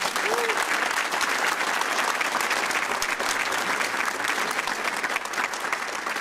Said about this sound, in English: Round of applause for the hidden heroes.